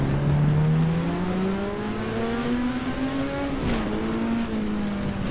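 Porsche race car engine in the GTR2 racing game at Brands Hatch, droning steadily with pitch slowly rising as it accelerates, a brief dip near the end, loud and continuous with no talk.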